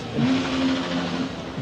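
A dirt bike engine at the Red Bull Romaniacs 2023 prologue finish revs loudly with a steady droning tone, holding high pitch for about a second before easing off, with no talking.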